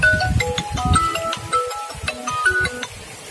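A melodic electronic ringtone plays a repeating tune of bright beeping notes, fairly loud and close, with low background rumble.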